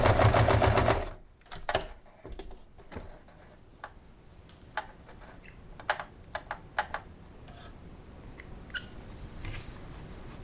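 Home sewing machine running a seam on a fabric face mask: a dense loud burst of stitching in the first second, then scattered faint clicks and ticks of fabric handling in a quiet room.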